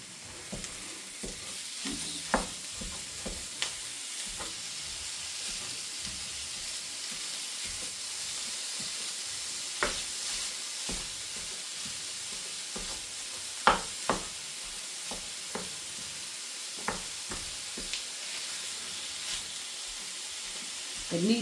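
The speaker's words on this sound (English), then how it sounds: "I'm just going to break this up in the frying pan." Ground meat sizzles steadily in a hot frying pan with a broad hiss, while a utensil scrapes and taps at irregular intervals as it is broken up.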